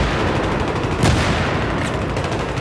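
Gunfire in Battlefield 3 on the Metro map. Dense, sustained automatic fire and loud reports crowd together into a continuous close barrage.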